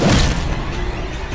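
A noxious blast explosion from the Darkest Dungeon video game: a loud, dull boom with a heavy thud at the start, then a dense crunching rumble that holds for over a second with no talk.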